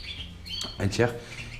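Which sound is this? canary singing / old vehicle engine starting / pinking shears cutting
canary singing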